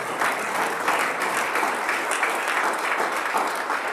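Steady, full applause from a church congregation, a dense wash of many hands clapping continuously for about four seconds without speech.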